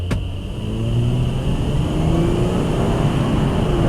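A Honda Odyssey minivan, recently repaired for a misfire, accelerates from inside the cabin: a steady engine rumble and road roar with rising harmonic tones as revs climb, loud and continuous throughout.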